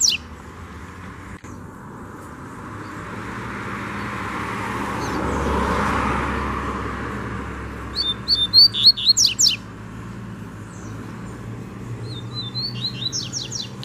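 Two free-flying double-collared seedeaters (coleiro) swoop low and sing in quick bursts of bright, trilling notes, first a louder run and then a fainter one, over a steady outdoor hum of passing traffic.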